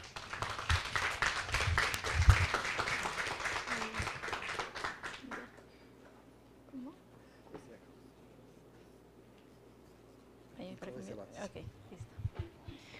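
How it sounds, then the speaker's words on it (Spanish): An audience at a breast cancer talk gives a burst of loud applause that lasts about five seconds and then dies away, followed by quiet room tone and a brief patter of claps near the end. "Entonces le invitamos con un fuerte aplauso, por favor."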